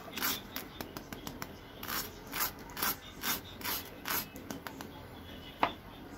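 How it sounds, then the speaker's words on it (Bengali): Someone bites into a crispy fried chicken and vegetable cutlet, producing a series of close, dry crunches in uneven bursts with short pauses between them. "এখন একটু আপনাদের আওয়াজটা শোনাচ্ছি কতটুকু ক্রিস্পি হয়েছে আমার এই চপটা"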